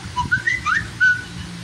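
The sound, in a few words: Samsung Galaxy S3 'Whistle' notification sound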